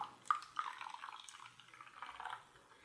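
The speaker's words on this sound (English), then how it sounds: "And now I'll pour the citric acid in, stirring with the milk." Citric acid solution poured into milk while being stirred, for homemade mozzarella from milk powder: a soft, steady liquid trickle with a couple of light drips at the start, faint and close, with no voices.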